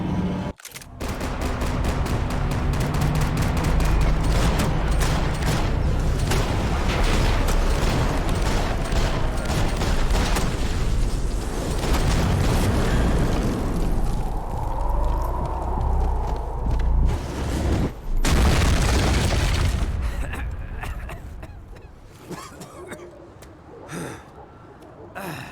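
Sustained gunfire and explosions from the Max Payne 3 video game rumble loud and dense for most of the stretch, with sharp blasts and clatter that ease off toward the end.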